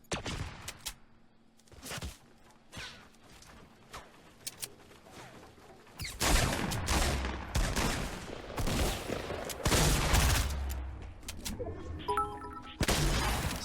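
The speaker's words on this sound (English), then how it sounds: "That sounds like a crazy shotgun fight" Shotgun fight gunfire in the Fortnite battle royale video game, with scattered faint shots at first and then a dense burst of loud, overlapping blasts and thumps.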